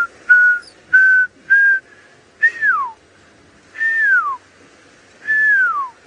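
A person whistles an imitation of a pearl-spotted owlet's call on a sunset safari drive: three short level notes, then three longer whistles that slide downward, clear and close against a quiet background.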